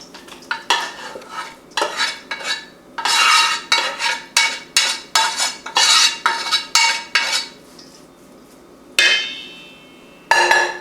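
Cooled quinoa spooned into a bowl for a quinoa salad: close, repeated scraping and clinking of a spoon against the bowl in short irregular bursts, with brief pauses and no talking.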